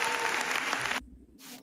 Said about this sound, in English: Let's throw him a clap.